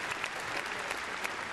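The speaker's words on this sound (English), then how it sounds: "give him a round of applause" Audience at a Crufts gundog demonstration breaking into steady, dense applause, a crowd clapping loudly and evenly throughout with no pauses.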